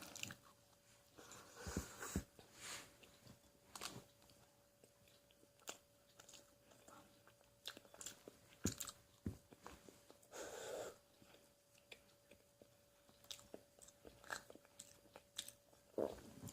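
Crunchy food bitten and chewed close to the mic in a Korean eating broadcast, with repeated sharp crunches and bites spread irregularly across the stretch, plus a few sniffs and breaths and no talking.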